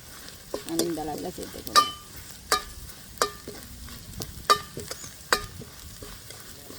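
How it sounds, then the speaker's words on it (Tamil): Chana dal for spicy bonda fries in hot oil, with a soft sizzle under sharp, evenly spaced scrapes and taps of a spoon stirring in the pan, and someone speaking briefly at the start. "இந்த கடலைப்பருப்பின் பச்சை வாசனை போகிறதுக்காக நான் ஒரு எண்ணெயில் பிரட்டி எடுக்கிறேன்."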